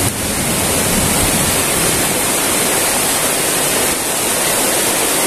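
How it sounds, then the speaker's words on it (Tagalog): Rain pours outdoors beside a river in Pola, Oriental Mindoro, a dense, loud, unbroken hiss of falling water with no talk over it. "Ayan, umulan na."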